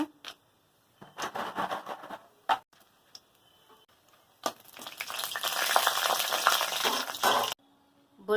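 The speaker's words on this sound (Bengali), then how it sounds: "তেল গরম হয়ে গেছে কতকগুলো বড়ি ভেজে নেবো শাকে দেওয়ার জন্য" Bori lentil dumplings fry in hot oil for a dish of greens, giving a crackling sizzle in short bursts at first, then a louder, sustained spattering stretch before it cuts off.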